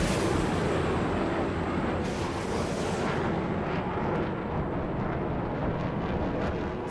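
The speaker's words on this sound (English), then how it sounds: "Three huge explosions light up the sky." Deep, sustained rumbling blasts roll on continuously, a loud heavy booming wash with no voices, like distant explosions echoing across the sky.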